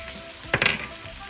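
Cashews frying in a pan of hot oil for a curry, a steady soft sizzle with a brief clatter of nuts dropping in and clinking against the pan.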